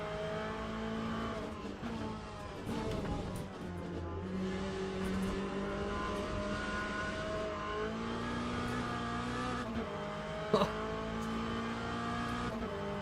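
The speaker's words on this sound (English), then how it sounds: "The sound of this car is just making it so really freaking real" LM GT3 race car engine in the Le Mans Ultimate racing game, a steady loud drone with shifting harmonic tones through revs and gear changes, and a brief sharp spike near the end.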